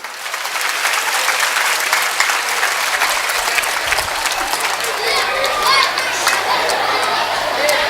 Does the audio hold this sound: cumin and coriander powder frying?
no